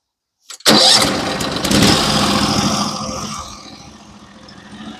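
A sawmill engine starts up on a cold day, cranking briefly then catching and roaring loudly before settling into a steady, gradually quieter idle, close by with no talk.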